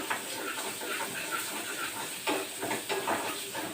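Small whole onions sizzle in hot oil, a continuous bright hiss with scattered crackles and pops, moderately close and fairly quiet, with no talking.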